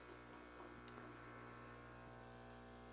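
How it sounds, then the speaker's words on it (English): A Jura ENA 8 espresso machine hums with a faint, steady vibrating drone during its pulsed extraction, continuous and low in level throughout, with no voices. "if you hear that vibration sound that's happening, that's what Jura calls the PEP, which is pulse extraction process"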